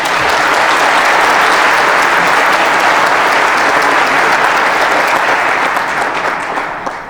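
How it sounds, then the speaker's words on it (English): Big round of applause from a large keynote audience at an international tech show, loud dense continuous clapping that holds steady for several seconds before beginning to taper off at the end. "Please give him a big round of applause."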